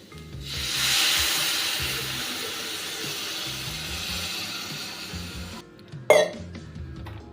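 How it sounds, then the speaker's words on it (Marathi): Water is poured onto fried onion masala with crushed peanuts in a pan, raising a loud, broad hissing sizzle that swells quickly and then settles into a steady simmering hiss, followed by a short clatter near the end. "आपले मसाले परतले आहेत यामध्ये आता पाणी टाकूया"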